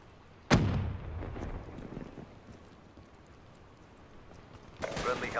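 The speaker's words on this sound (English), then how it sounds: "And oh god, grenade!" A loud grenade blast in Call of Duty: Black Ops 3, one heavy boom with a long rumbling tail, then a quieter stretch and another burst of noise near the end.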